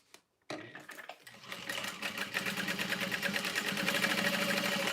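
A sewing machine top stitching, starting after a brief silence and building into a steady rapid mechanical whirr that grows louder and faster.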